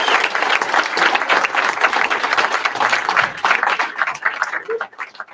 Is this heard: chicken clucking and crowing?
no